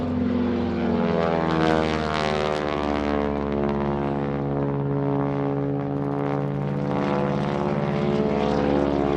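A propeller aerobatic plane engine drones loudly and steadily at an airshow, with a dense, buzzing harmonic roar that swells slightly as the plane maneuvers overhead.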